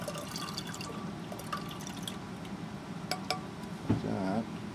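Water is poured back into a chamber, with scattered drips and small splashes, then a brief burst of gurgling pouring near the end, close and moderately quiet.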